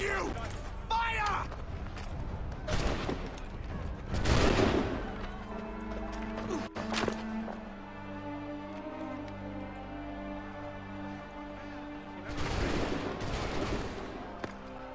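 Bursts of gunfire volleys in an Assassin's Creed game, several loud cracking clusters separated by quieter gaps with ringing mechanical tones, and a voice talking in places.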